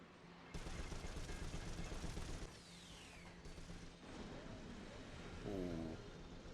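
Enemy gunfire crackles in the video game Resistance 2 as rapid shots and mechanical clatter run under a busy battle din, fairly close and continuous, with a voice faintly present.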